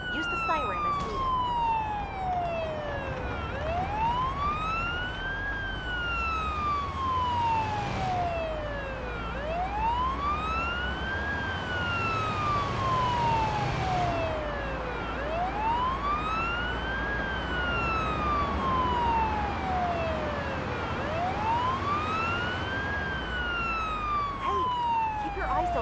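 A wailing ambulance siren in a paramedic simulator video game sweeps up and down in steady repeating cycles, loud and continuous throughout, with a brief low rumbling burst partway through.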